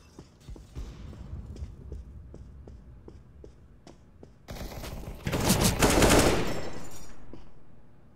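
Automatic gunfire in the video game CSGO: a series of spaced single shots, then a loud sustained burst of rapid fire that trails off, with no talk.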